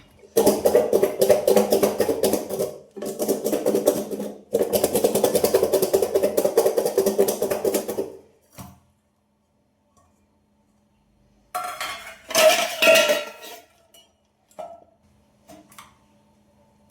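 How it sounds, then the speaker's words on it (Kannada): A spoon stirring guava chaat with lemon juice in a bowl, producing repeated rapid clinks and scrapes in two long bursts, then a pause and a few shorter clattering bursts near the end. "ಇದರೊಳಗಡೆ ಸ್ವಲ್ಪ ನಿಂಬೆಹಣ್ಣು ಹಾಕೋಣ. ಇವಾಗ ನೀಟಾಗಿ ಮಿಕ್ಸ್ ಮಾಡಿ."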